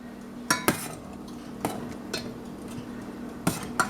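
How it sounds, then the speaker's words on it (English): Noodles cooking in milk in a pot are stirred with a utensil, giving sharp metallic clinks against the pot at irregular intervals over a quiet background hum. "let me stir this a little quick"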